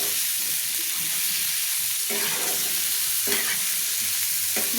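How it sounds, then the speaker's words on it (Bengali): Fried potatoes with spices being stirred in a pan, a loud constant sizzle broken by periodic scraping strokes of the spatula, close up and with no one talking. "দিয়ে দেখুন আমি ভালো করে নেড়ে নিচ্ছি"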